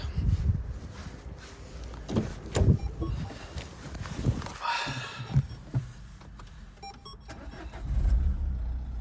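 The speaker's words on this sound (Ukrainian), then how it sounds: "заводиться без проблем" A Renault Megane dCi diesel car with 155,000 km starts up, its engine turning over and catching partway through, then settling into a low idle rumble amid some handling noise nearby.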